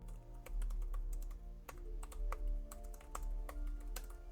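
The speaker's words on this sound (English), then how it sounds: "Actually, I'll do a typing test right now." Rapid, steady typing on the keyboard of a Framework Laptop 13, dense clicky keystrokes in an uneven rhythm with a few brief pauses, close and alone.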